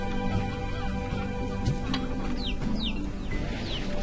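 Chickens in the video game Slime Rancher cluck in short, scattered chirps over a dense, steady game ambience, fairly faint and with no talking.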